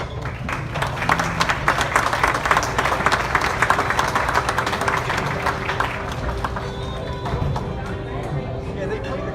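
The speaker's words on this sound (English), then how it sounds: "Please welcome these 3 former North Tonawanda standouts with a warm round of applause." Warm applause at a football Hall of Fame induction dinner welcoming three former standouts: a sustained dense crowd clapping that fills the room, gradually easing toward the end under murmuring voices.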